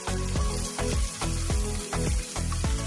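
Chopped onion goes into a hot pan and fries with a loud, steady sizzle, overlaid by a rhythmic pulsing roughly every half second throughout.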